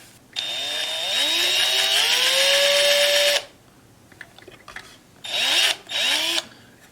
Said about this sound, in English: I think I'll enlarge the hole just a little, just the very beginning of the hole where the binding is.